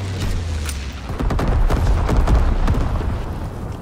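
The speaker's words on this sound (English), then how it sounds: "Incendiary bombs incoming!" Incendiary bomb blasts in a World War II video game rumble as deep, dense booms and crackling fire, rolling continuously at close range without any talk.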